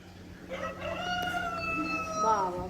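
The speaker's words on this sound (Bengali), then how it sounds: "মোরগ ডাকছে।" A rooster crows in one drawn-out call at moderate distance, heard from a hillside hotel rooftop in Pelling, with a steady low hum beneath it.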